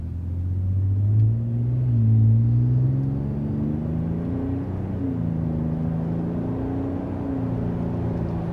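A 2022 or newer Toyota Tundra fitted with an aFe exhaust accelerates hard from a stop, its engine giving a low, fairly subdued drone that climbs and dips with the gear changes and keeps rumbling steadily.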